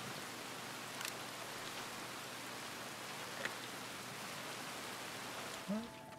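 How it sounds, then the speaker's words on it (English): Steady rain falls in the Red Dead Online game world, a constant broadband hiss with a few brief sharper drops, while a faint voice comes in near the end. "because it's raining, it may come out a little bit interesting as well"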